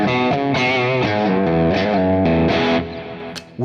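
An electric guitar played through an amp modeler with a medium-gain, Marshall-style crunch tone rings out in loud, sustained distorted chords and notes, then quickly fades near the end.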